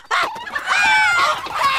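Chickens cluck and squawk in TMNT Legends, a dense run of close, loud fowl calls with harmonic rises, continuous across the short moment with no talk.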